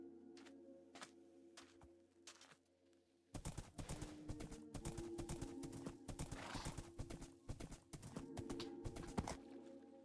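Minecraft horse hooves clop in quick irregular bursts, with a short whinny early on, over faint game ambience and soft bird calls, loud and close throughout.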